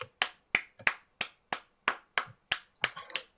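Hand claps, roughly ten sharp, close single claps in a loose steady rhythm, isolated against a quiet background.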